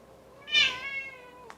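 A domestic cat lets out a single drawn-out meow close by, swelling quickly and then tapering into a softer, wavering tail, with a small tick near the end in an otherwise quiet room.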